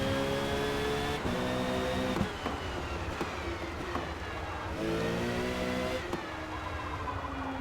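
Racing car engine in Forza Motorsport, loud and close, revving through rising pitch sweeps with sharp shifts and brief dips, running continuously with no voices.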